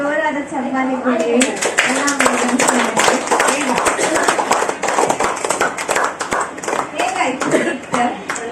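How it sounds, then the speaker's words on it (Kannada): An audience at a Tulu comedy drama performance claps loudly and continuously, sharp overlapping hand claps under a speaking voice that carries through the first part and returns near the end. "ಜೋರಾದ ಚಪ್ಪಾಳೆ ಕೊಡಿ"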